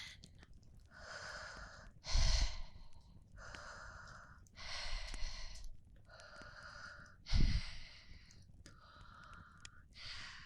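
A whispering ASMR narrator imitates creepy, snuffling breathing at a campfire, with slow breathy inhales and exhales repeating in soft bursts, two heavier snort-like gusts standing out.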